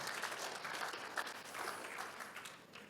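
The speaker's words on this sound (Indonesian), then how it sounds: "Mari berikan tepuk tangan." A church congregation applauding during a sermon, a soft, fairly distant patter of many hands clapping steadily throughout, fairly quiet and with no one speaking.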